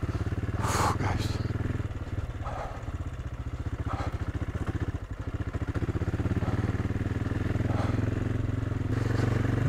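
Light enduro motorcycle on an Italian trail, its engine chugging steadily as it clatters over washed-out stones, with bumps and scrapes from the rough ground and a rider's voice now and then.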